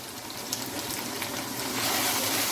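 Tomatoes, red chillies and turmeric fry in a pan for smoky keema, making a continuous close, bubbling sizzle that swells slightly louder toward the end, with no voices.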